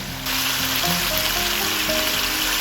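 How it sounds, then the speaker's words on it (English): Carrots sizzle steadily in a hot pan for calamari yakisoba, a dense broadband frying hiss that starts abruptly and holds loud and close, with faint clinks and tonal kitchen sounds underneath. "Just fry up these carrots real quick."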